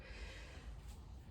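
A patient draws in a deep breath during a physical exam, a soft, close, airy inhalation that lasts about a second with no talking over it.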